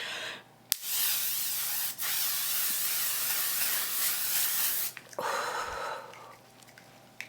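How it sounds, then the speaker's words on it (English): L'Oreal Infallible 3-second setting mist is sprayed over freshly applied makeup in two close, loud bursts: one long hiss of several seconds, then a short puff. "I'm gonna use the L'Oreal Infallible 3-second setting mist."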